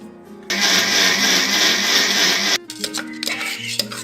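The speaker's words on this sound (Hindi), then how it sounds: "थोड़ा सा ठंडा होने पर इसे ग्राइंड कर लेना है।" A mixer grinder roars loudly for about two seconds grinding onion paste, then stops, leaving clinking and handling sounds nearby.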